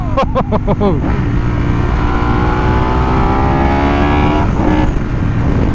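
Ducati 916 SPS motorcycle ridden on an open road, its engine note climbing steadily through a continuous rev under loud wind rush, with a few sharp bursts near the start and a gear change near the end.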